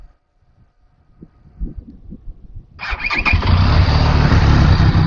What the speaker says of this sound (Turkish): şimdi size egzoz sesini dinleteyim